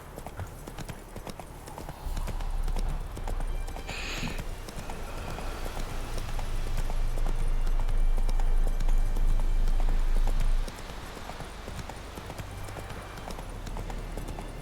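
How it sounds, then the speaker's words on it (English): Horse hooves gallop in The Witcher 3: Wild Hunt, a steady rapid clip-clop that swells louder midway then drops back, running under ambient game sound with no speech. "Whoa there, Roach"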